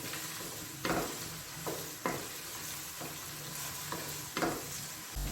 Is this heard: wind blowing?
no